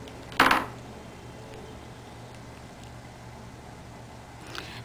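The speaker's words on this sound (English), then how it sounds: "And then I'm going to trim that with my nipper tool." Nipper tool snipping jewelry wire for an earring: a single sharp metallic click near the start, then quiet room tone with a faint tick at the end.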